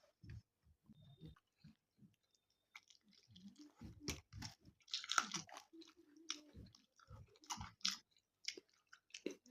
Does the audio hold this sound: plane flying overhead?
no